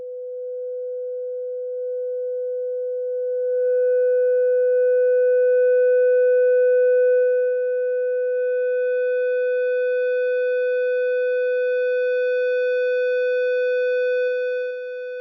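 A steady 500 Hz sine tone run through a soft saturation plugin, holding one pure pitch while added harmonic overtones build above it, continuous and clean throughout with no voices.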